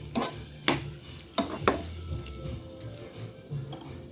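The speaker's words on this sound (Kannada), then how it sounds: "ಮುಚ್ಚೋದೇನು ಬೇಡ, ಹಂಗೆ ಫ್ರೈ ಮಾಡ್ಕೊಳ್ಳೋಣ" Goat blood stir-fried uncovered in a pan, with a low sizzle under repeated close scrapes and clacks of a spatula stirring at an uneven, steady pace.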